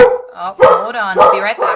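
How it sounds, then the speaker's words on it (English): A pet dog barks loudly and close by in a house as children come home from school, several sharp barks mixed with a voice speaking over them. "That was my dog."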